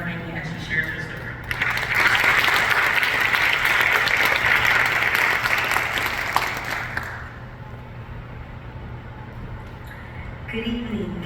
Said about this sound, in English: Please join me in giving a warm welcome to Chanel Faney as she shares her story.